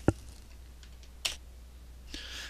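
A computer keyboard's enter key gives a sharp single click near the start, followed by another lighter click partway through during AutoCAD drafting in a quiet room.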